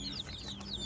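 Weak, sickly incubator-hatched chicks peep in thin, high chirps that overlap continuously over a faint background hum, close by.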